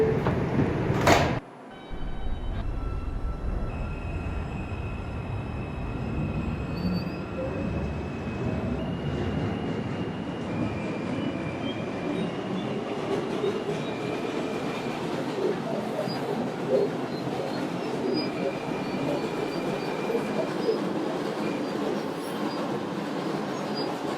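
A Woodlawn-bound New York subway 4 train rolls along with a steady low rumble and faint high wheel squeal, preceded by a sharp door or car clunk near the start.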